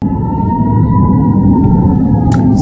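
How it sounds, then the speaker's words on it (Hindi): An air raid siren sounds in Haifa, Israel, a loud, sustained steady wail holding one pitch with a low background rumble beneath it. "सायरन की आवाज जरा सुनिएगा"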